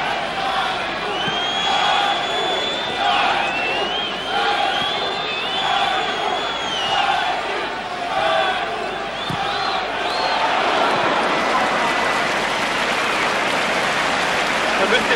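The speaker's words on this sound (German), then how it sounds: "Ihr hört ja, wie dankbar die Zuschauer sind, wenn sie wieder ein paar gute Szenen bekommen." Stadium spectators at a football match between FK Dynamo Kiev and Ferencvárosi TC create a broad, rushing roar of cheering with occasional whistles, mostly steady and swelling slightly, with a commentator's voice over the top.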